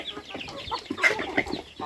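Native chickens in a new coop on a rural farm cluck in short, scattered bursts, close by and moderately quiet over about two seconds.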